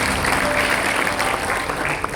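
A church congregation at a Christmas service claps together, a brief, steady wash of applause filling the room with a faint tone underneath.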